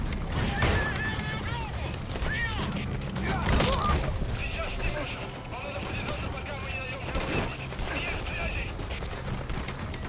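Gunfire and mechanical clatter in the stealth-action game Metal Gear Solid V: The Phantom Pain, with bursts of shots over a busy, dense mix of effects and game sounds throughout.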